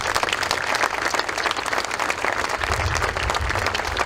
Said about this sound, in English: I'd like to give them a round of applause for coming out.